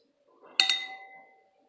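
Two glasses, one blue and one green, clink in a toast as a pair of quick bright chimes close together, and their ringing fades over about half a second. There is faint movement just before.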